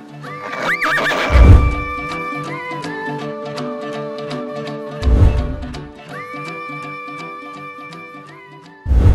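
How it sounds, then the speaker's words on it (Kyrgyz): Horses at a Kyrgyz horse-riding stable neigh loudly and close by: two long, shrill whinnies with wavering tones, separated by quieter snorting and a few soft hoof clops, and a third call starting at the very end. "бүгүн деген биз Карагыз, Трон жана Пуля деген аттар менен тааныштык."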